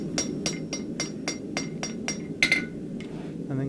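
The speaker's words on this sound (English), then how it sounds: "so I'm going to remove them now with my hammer" A blacksmith's hammer strikes a hot steel bar on an anvil, knocking sharp edges off while forging a bottom swage: about a dozen sharp, evenly spaced metallic blows, close and ringing.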